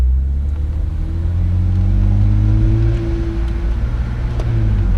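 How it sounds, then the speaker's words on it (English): A 2008 BMW 135i E82 convertible with its top down accelerates, its engine giving a loud, steady rising drone that stays close and fills the cabin, with no voices. "So with the top down, you can really hear a lot of engine noise from the car actually"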